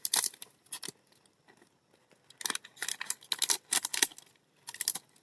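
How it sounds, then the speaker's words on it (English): A plastic bottle has its shoulder cut off outdoors, giving irregular bursts of crisp cutting and crinkling plastic with short pauses between strokes, close and moderately loud. "cut the shoulder of this bottle"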